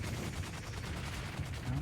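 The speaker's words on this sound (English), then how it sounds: "let's hear the bugged cannon again" A bugged cannon fires in the Dune Awakening video game, sounding as a fast, evenly spaced stream of faint, distant-sounding blasts that run without pause.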